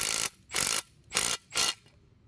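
Impact driver screwing down a concrete anchor: four short bursts of loud, rattling hammering, each lasting about a quarter second, separated by brief pauses, close up and alone.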